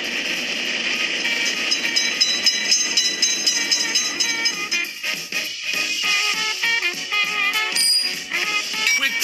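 In a railroad crossing mobile game, a train rumbles through at close range. High metallic hiss and rattling come first, then a rhythmic clatter of wheels over rail joints that continues to the end.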